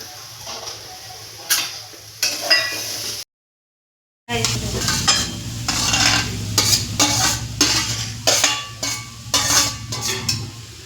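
Ground spice paste being stirred into reddened onions frying in hot oil for soybean samosa filling: repeated scraping stirs against the pan over a steady sizzle, with one brief silent gap early on.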